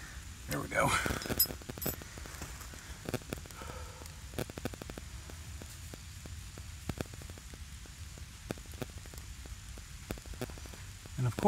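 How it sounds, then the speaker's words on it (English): Rain falling on a woodland camp at night, a steady hiss with scattered sharp drops and taps, heard close and fairly quiet, with a louder rustle near the start. "as soon as I got it going, it starts raining. Even harder."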